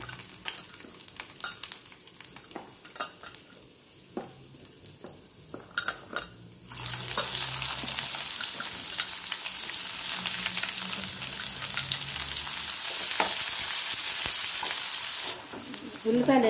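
Sliced onions, mustard seeds and cumin hit hot oil for an okra curry tempering. A steady, loud sizzle bursts in partway through, after quieter clinks and stirring, and it keeps crackling densely to the end.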